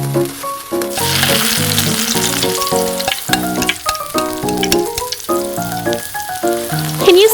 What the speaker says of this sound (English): I love fried onions. We fry it with salt and pepper.